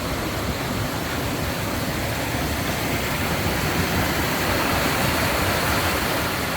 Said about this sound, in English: Here comes another cool bridge. Over a pretty cool little cascading stream.